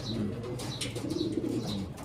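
A racing pigeon, a grizzle, coos softly in repeated low, rolling phrases, close by, with faint chirps in the background.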